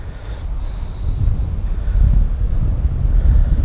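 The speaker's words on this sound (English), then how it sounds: "Really strong wind." Strong wind buffets the microphone outdoors on a golf course, a steady low roar that swells louder through the middle and end, with no talk.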